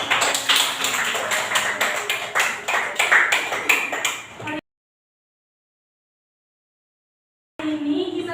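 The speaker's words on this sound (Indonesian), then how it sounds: "Tepuk tangan dulu dong." A classroom of students claps hands during an Indonesian language lesson, a fairly soft patter of many claps for about four and a half seconds, then near silence, then a brief return of noise at the end.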